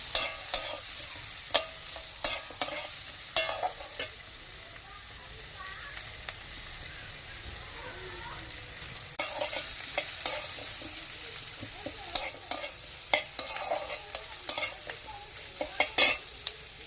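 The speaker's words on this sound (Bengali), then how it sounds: "এটাকে আমরা লাল করে 2 থেকে 3 মিনিট ভাজবো।" Mutton sizzling in a pan under a steady hiss, punctuated by repeated sharp scrapes and clinks of a spatula stirring, growing busier partway through.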